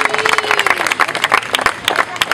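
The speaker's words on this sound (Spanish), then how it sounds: "Un aplauso para mi hija." A crowd at a medieval-themed event applauds in close, loud bursts of clapping, with voices mixed in among the claps.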